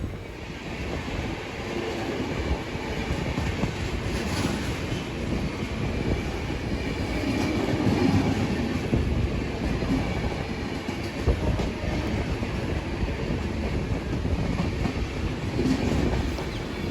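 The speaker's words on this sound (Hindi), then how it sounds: "यह है Suhel Dev superfast express, Anand Vihar to Ghazipur city." The Suheldev Superfast Express, running from Anand Vihar to Ghazipur City, rumbles past near Jaunpur with a continuous loud roar and faint rhythmic wheel clatter throughout, no voices.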